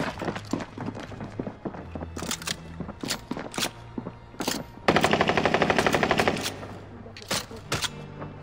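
Rapid bursts of automatic gunfire and scattered single shots aimed at the player in Call of Duty: Modern Warfare, loud and close, with a dense sustained volley in the middle and sharp cracks throughout.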